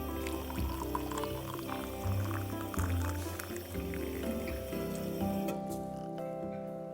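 Water poured to make coffee in the video game Assemble With Care, a steady liquid pouring and filling sound running for several seconds under light background music, near and moderately loud.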